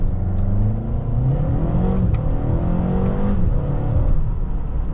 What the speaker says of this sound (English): We'll do a quick little light acceleration.